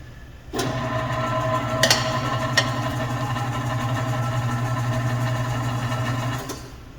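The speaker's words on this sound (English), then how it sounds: "what we're going to do is we're going to use the rotation pedal" Steady mechanical whir of a tire changer's turntable driven by its rotation pedal, a continuous motor hum running several seconds with a couple of sharp metallic clicks, then stopping.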